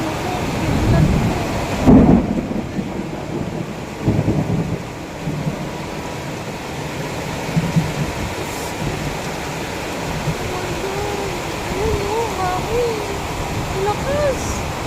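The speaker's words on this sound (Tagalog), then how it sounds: "Naku, kidlat po." Heavy tropical downpour during a thunderstorm in Burgos, Montalban, Rizal, a steady dense roar of rain with a low rumble of thunder early on, while people talk in the background throughout.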